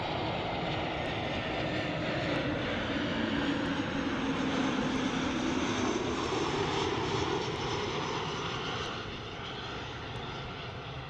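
An airliner arriving at DFW International Airport, a loud, steady roar of aircraft engines close by that holds for several seconds before easing slightly toward the end, with no voices.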